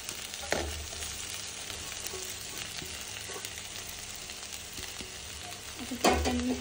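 Poha being stirred into sautéed onions in a hot pan, a steady soft sizzle with scraping stirs and a louder clatter of the spoon near the end, no voices.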